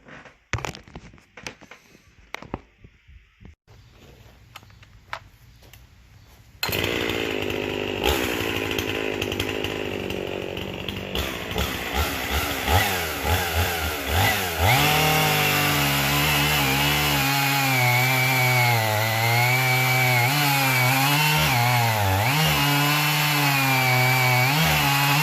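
A Husqvarna 55 chainsaw, freshly tuned up, idles with sputtering bursts before revving to full throttle and bogging into a sustained test cut through wood, loud and close, ending in a steady high-pitched whine.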